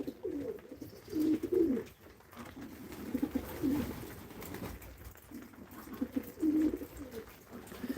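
Several rounds of pigeon cooing, soft throaty burbling calls repeating in bursts, fairly close, over a faint background hiss.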